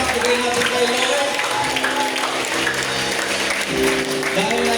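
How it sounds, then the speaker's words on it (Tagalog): A church congregation claps steadily throughout, with music or voices running over the dense patter. "Sige po, malakas na palakpak, bigay natin kay Lord."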